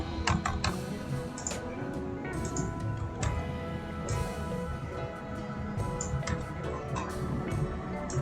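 Computer keyboard typing runs throughout, with a rapid, irregular patter of close, moderately quiet keystrokes and brief pauses, no talking.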